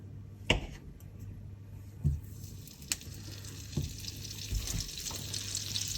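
Butter melting in a pan with olive oil over medium-high heat, a soft continuous sizzle broken by a few sharp clicks and taps of a utensil, with no talk.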